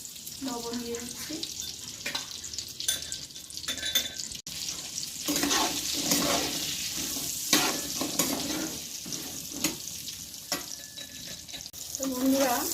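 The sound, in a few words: frying pointed gourd and potatoes in oil in a wok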